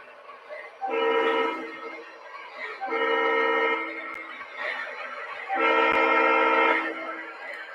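An Alco model locomotive on a track sounds three loud horn blasts of about a second each, with harmonic horn tones at steady volume and a low running hum in between.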